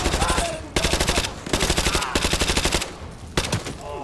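Rapid automatic rifle fire in Call of Duty: Modern Warfare 2 Remastered, loud bursts of evenly spaced shots separated by short pauses, close and dominant.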